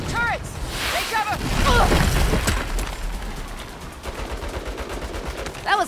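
Turret gunfire in Saints Row, bursts of rapid automatic shots and impacts, loudest in the first half, over choppy water and wave noise, with shouting voices at the start and end.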